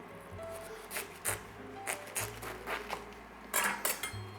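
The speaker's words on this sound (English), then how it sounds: "We remove the chewy core from the middle, and again we cut the rest into bite-sized pieces." A knife cuts Savoy cabbage into bite-sized pieces on a cutting board for minestrone, a series of sharp close chops and crunchy taps in an irregular rhythm, with no talking.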